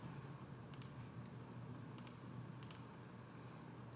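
Keys on a TI-84 graphing calculator pressed while entering an equation, giving a few soft, quick click pairs spaced through a steady low background hum.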